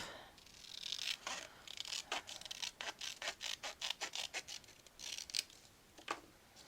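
Scissors snipping through paper to cut an angled album pocket, a close run of quick, evenly spaced crisp snips that speeds into a steady rhythm, with no one speaking.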